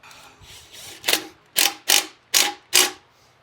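Five sharp metallic clanks in an even rhythm, close and loud, as a bolt is fastened on a MINI control arm during a bushing replacement, with faint softer taps before them.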